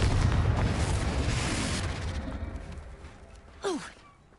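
A Confringo explosive spell goes off in Hogwarts Legacy: a loud, broad rumbling blast that slowly fades over several seconds, followed by a short whooshing, rising magical flourish near the end.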